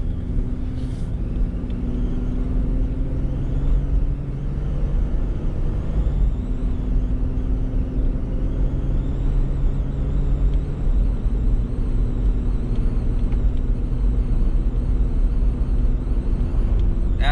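A 2002–2010 Ford Explorer with a 5R55S automatic transmission drives along, and the steady loud engine and road rumble inside the cabin carry on without a break.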